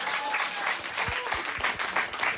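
Studio audience clapping in a Korean talk-show setting, a lively burst of applause that stays fairly even, with a few low thumps and faint voices mixed in beneath it.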